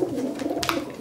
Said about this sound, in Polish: Są to gołębie Timmermans ze strony matki, jak i ojca.